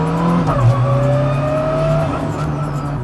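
An 800 hp Honda NSX race car with a K20 swap and sequential gearbox roars steadily, engine note shifting pitch as the tires break traction with a squealing edge, loud and close.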